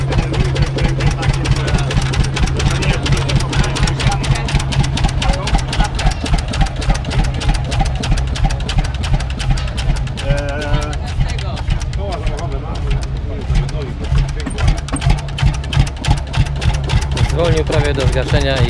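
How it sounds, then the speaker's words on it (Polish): A vintage 1921 Lanz tractor engine idles at a tractor rally with a steady, thumping low chug, slowing almost to a stall and then running on, while people talk nearby throughout. "Tutaj jeszcze mamy pięknego Lanca z 21 roku. Jak to ładnie pracuje."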